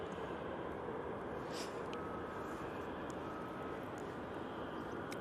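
Helvetic airliner taking an intersection departure at Manchester Airport, a steady distant jet engine roar held at an even level throughout, with no talk.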